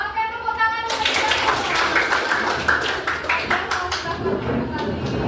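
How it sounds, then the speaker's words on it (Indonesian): Schoolchildren in a coding class clap their hands together in a sustained, dense burst lasting several seconds, close and loud, with young voices chattering over it. "tepuk tangan untuk kita"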